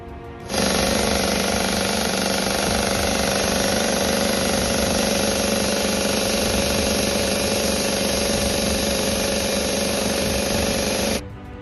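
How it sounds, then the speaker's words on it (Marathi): Heavy roadwork machinery drills and rumbles continuously on a cliffside along a mountain ghat road, a loud, steady mechanical din running unbroken and close with no voices. "डोंगर कड्यावरती जे मशीन्स चालू होते"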